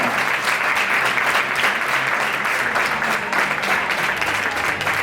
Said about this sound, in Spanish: Forte aplauso.